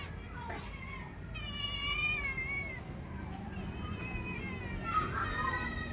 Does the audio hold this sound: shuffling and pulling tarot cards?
no